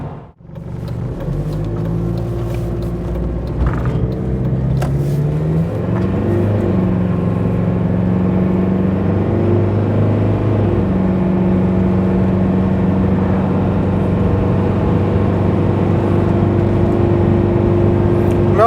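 Steady low engine drone and road rumble from a Mazda Bongo Friendee van with a 2.5-litre four-cylinder turbo diesel and automatic gearbox, cruising at 60 mph, loud and continuous throughout with no talk.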